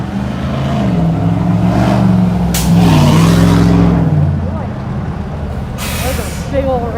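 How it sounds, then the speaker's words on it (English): Big red truck passing on a city street in Los Angeles Chinatown, a rumbling engine rising and fading with sharp air-brake hisses, heard at close range while people talk over it. "There's a big old red truck."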